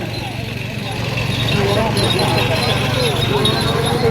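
Hooves clatter in a fast, continuous rhythm as a pair of Ghati bullocks runs in a bullock cart race in Chiplun, heard amid a dense crowd roar and loud mixed chatter.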